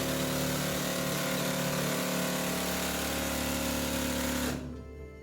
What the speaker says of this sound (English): they finally came up with a drill they call a jackleg, and that's that drill you see right here